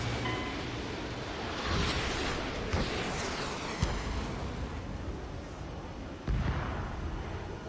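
Loud, dense combat from the Ace Combat 7 video game as an aircraft is shot down, with deep booming explosions and cannon fire over a constant roar of jet engines and battle noise.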